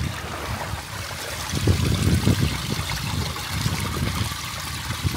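Water trickles and splashes as it drains out of a flooded Infiniti QX60, an uneven gurgling dribble that swells midway and continues, fairly close.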